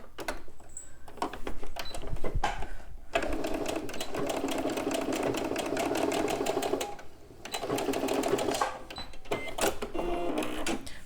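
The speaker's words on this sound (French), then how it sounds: "Je vais quand même faire une petite couture au bout." Sewing machine stitching across the end of a fabric tube for a jewelry pouch, fast steady mechanical whirring in several bursts separated by short stops, close and clear.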